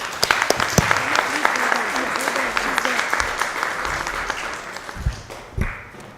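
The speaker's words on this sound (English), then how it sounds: "Big round of applause." Steady applause from a conference audience, dense clapping filling the space, with a voice briefly rising near the end.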